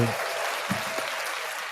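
Audience applause after a singing performance, a steady broadband patter of clapping filling the space with a brief voice or thump near the start.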